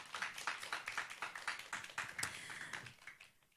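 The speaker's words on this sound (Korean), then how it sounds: "우리 함께 박수로 감사 인사를 드릴까요?" Audience applause at a church mission prayer gathering, a dense patter of many hands clapping steadily and fairly close, thinning out toward the end.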